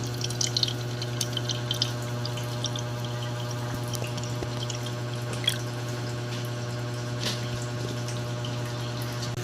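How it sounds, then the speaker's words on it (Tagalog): Water is poured into the tank of an air humidifier, a soft trickle with occasional drips over a steady low hum, fairly quiet and with no talking. "Tapos, lalagyan lang natin siya ng water."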